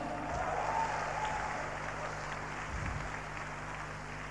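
A seminar audience applauds a business group on stage, a steady wash of clapping from a crowd heard at some distance, with a speaking voice over it and a low hum underneath.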